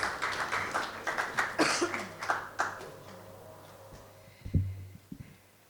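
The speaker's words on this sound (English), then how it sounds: "if we can have a round of applause for our esteemed judges" An audience applauds the judges at a commemoration event for the International Day for the Elimination of Racial Discrimination. Fairly quiet, scattered hand claps fade out after about three seconds, leaving a few soft thumps and room hum.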